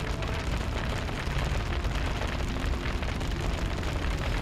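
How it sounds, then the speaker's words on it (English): A fireball igniting spilled grease in the fantasy game Dragon Age: Origins, a loud, dense roaring whoosh of flames that holds steady and close for the whole stretch. "he's launched a fireball. That fireball has lit the grease on fire."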